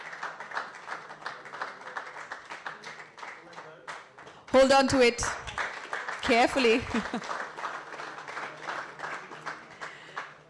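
An audience claps for the winner of a golf championship as he receives his prize check, a steady patter of applause running beneath continuous talk, with a couple of louder bursts midway.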